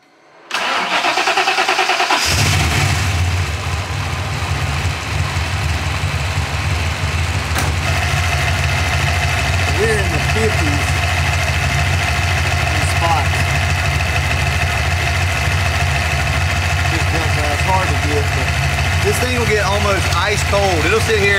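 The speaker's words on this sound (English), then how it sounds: "Let's start the car back up." A Fox body Mustang with a blow-through carbureted setup cranks and fires after a short quiet moment, then settles into a loud, steady, rumbling idle that continues throughout, with brief voices over it.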